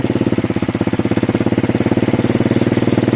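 Motorcycle engine pulling hard in second gear, a loud, close, rapid thudding exhaust beat that keeps a steady, even rhythm throughout.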